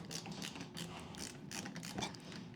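A Klein ratcheting screwdriver clicks steadily as its ratchet is worked back and forth, a close, dry run of rapid mechanical ticks with no voices.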